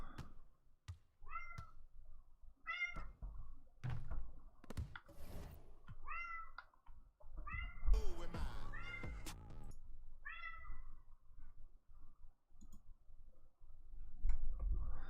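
A house cat meows repeatedly, about eight clear, fairly close calls spaced a second or two apart, with scattered knocks and clicks between them and a brief burst of noise in the middle.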